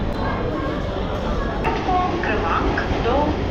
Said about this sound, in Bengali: এক নম্বর প্ল্যাটফর্মে আমাদের ট্রেন আসবে